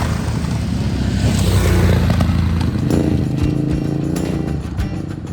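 Ducati DesertX adventure motorcycle riding a mellow mountain trail on the Alpine Loop in the Colorado Rockies, its engine droning steadily and loudly throughout, mixed with wind and rough trail rumble, with no talk.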